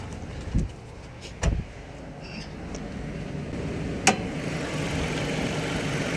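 Car with a 2.4 dual VVT four-cylinder engine idling as a low steady hum, with a few sharp clicks and knocks on top and the engine slightly rising toward the end.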